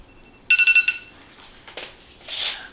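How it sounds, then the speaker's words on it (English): In a home kitchen, a phone's 20-minute timer alarm goes off with a short burst of four quick, bright electronic beeps, followed by softer rustling and faint clatter. "there's my alarm to get it out"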